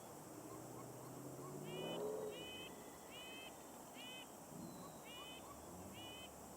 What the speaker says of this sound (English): I could see them hopping about and hear them calling excitedly.